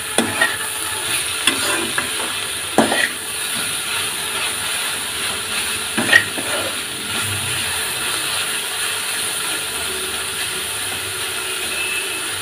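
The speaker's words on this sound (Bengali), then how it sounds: "এবার ভালো করে নেড়ে নেব।" Egg mixture with salt is stirred in a bowl: a few sharp clinking and scraping strokes early on, then a quieter steady background hiss, close and without speech.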